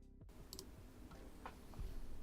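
Sparse, quiet key clicks from a Glorious GMMK Pro mechanical keyboard fitted with 1mm case foam, a few scattered taps over a low background hum.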